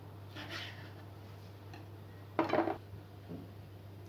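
A knife cuts peppers into three or four chunks on a board during home kitchen prep. Sparse, quiet knocks sit over a steady low hum, with one brief, louder clatter midway.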